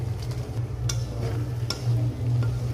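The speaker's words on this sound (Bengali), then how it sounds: "আমি চিকেন বলগুলো এখন দিয়ে দিব।" Chicken kofta balls drop into a pan of sizzling garam masala spice paste, giving a soft, close frying hiss with a few light clicks and stirring scrapes.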